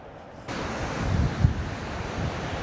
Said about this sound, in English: we can now hear the lake, the waves on the lake